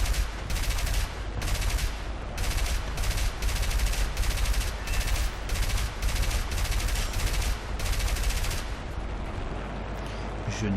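Small machine guns firing in a video game, loud rapid bursts repeated in a tight rhythm for about eight seconds before the firing stops and leaves a quieter background.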